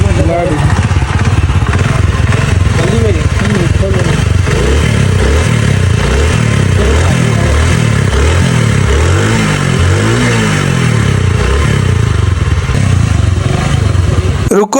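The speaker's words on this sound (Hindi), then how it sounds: "मोटरसाइकिल को किक मार के स्टार्ट करते हैं।" A motorcycle with a newly fitted headlight capacitor is kick-started and runs with a loud, close, clattering engine that revs and pulses throughout, while someone talks over it.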